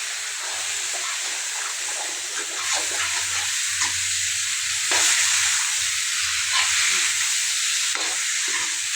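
Potatoes and meat fry and sizzle steadily in a pan, with clinks and scrapes of stirring recurring throughout, close and moderately loud, with no talking.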